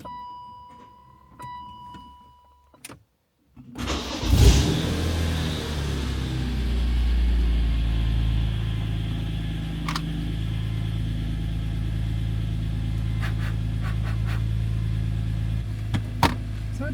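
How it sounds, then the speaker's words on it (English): A BMW E46 M3 wagon with an S54 engine, Euro header and no catalytic converters starts up and settles into a loud, steady idle with a low raspy drone, after a few quiet clicks and beeps beforehand. "we'll try to do a recording of the exhaust and see how raspy it is, what it sounds like"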